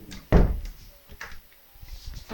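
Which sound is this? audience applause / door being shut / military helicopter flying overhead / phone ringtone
door being shut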